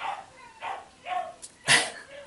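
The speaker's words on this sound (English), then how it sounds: "My dogs are going crazy." A few distant dogs barking indoors in short bursts, with one louder yelp near the end, reacting to someone at the door.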